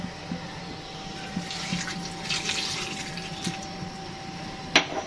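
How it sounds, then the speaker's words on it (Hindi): Water pours into a cooking pot of spiced potatoes and eggs, a continuous close splashing trickle with a faint steady hum behind it and a sharp clink near the end. "अब करते हैं इतना सा पानी डाल दें।"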